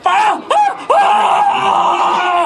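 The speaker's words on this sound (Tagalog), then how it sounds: "Ang lakas naman ng sigaw ng lalaking yun." A man screams loudly and close, several strained cries in quick succession, the last one long and sustained.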